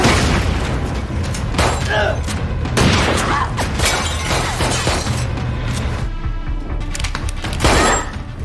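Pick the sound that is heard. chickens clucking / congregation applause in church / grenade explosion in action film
grenade explosion in action film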